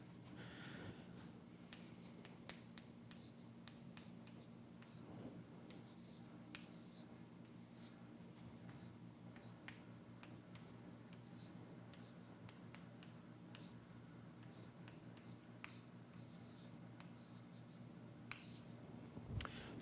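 Chalk scratching and tapping on a board during a probability lecture, faint scattered strokes over a steady room hum.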